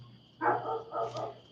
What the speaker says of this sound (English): so y'all probably hear dogs barking now